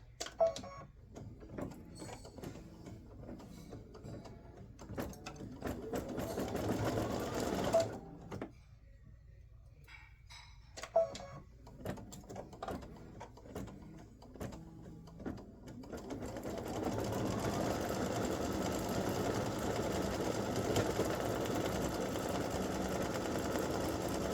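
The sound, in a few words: embroidery machine stitching leaf veins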